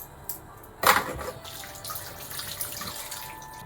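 Tap water runs over a peeled white radish as it is rinsed clean in a kitchen sink, a steady faint stream with one louder splash near the start.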